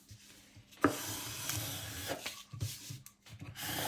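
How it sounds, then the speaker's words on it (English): A scraper being dragged across glued paper, giving soft, short rubbing and scraping strokes, quiet and close, with one sharper tap near the start. "I'm going to take my Tim Holtz scraper here and help the glue"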